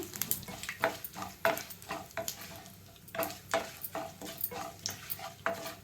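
A pan sizzles on a medium flame while bitter gourd garlic fry is cooked, with steady frying crackle and repeated scraping and clacking strokes of stirring, close and fairly quiet.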